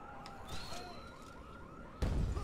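A car alarm in the video game Dead Rising 3 wails with a repeating rising-and-falling electronic tone at moderate distance, joined by a sudden louder burst of game noise near the end.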